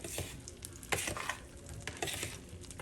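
Butter and tofu fry in a pan for a stir-fry, giving a steady close sizzle broken by a few louder scraping stirs and pops.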